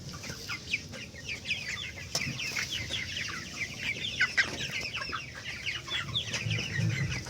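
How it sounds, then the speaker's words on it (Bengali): Sick farm chickens suffering from cold cluck steadily in a dense, low-level chorus, many soft overlapping calls from a flock nearby with occasional sharper notes and no talk. "ঠান্ডাও লেগেছে মুরগির"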